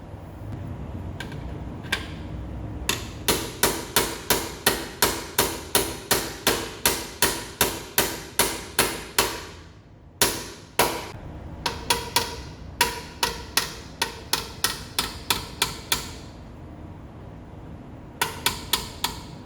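A metal punch hammered into a Miata car door part, sharp ringing strikes coming one after another in a steady rhythm, loud and close, with a brief pause and a few final blows.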